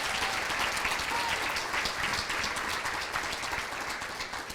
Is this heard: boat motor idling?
no